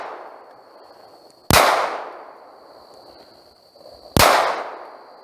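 Two loud, sharp pistol shots from a Smith & Wesson 4566 in .45 ACP fired outdoors, a few seconds apart, each cracking hard and ringing out over a faint steady background tone.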